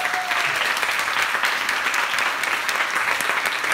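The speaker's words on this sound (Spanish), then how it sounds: "Un fuerte aplauso" A crowd at a festival book presentation for a novel gives loud, dense, sustained applause, steady throughout with no break.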